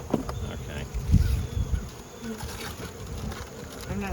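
Dense, steady buzzing of many honeybees at an opened hive during a fall swarm, close and continuous, with faint handling sounds and quiet talk in the background.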